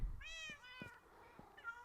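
Several cats meowing in Minecraft, drawn-out, high-pitched mews overlapping one after another, loud and close, with faint thumps in between and no talking.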